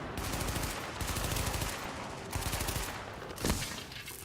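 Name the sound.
weapon gunfire in video game Tom Clancy's The Division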